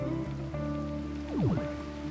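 Steady rain falls in Minecraft 1.12.2 as a continuous soft hiss that runs the whole time, with tonal game sounds sliding over it partway through.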